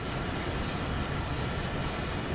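A steady, loud rumble from an AI freight train climbing Sherman Hill in a train simulator, in wet, snowy conditions, droning evenly without pause or speech.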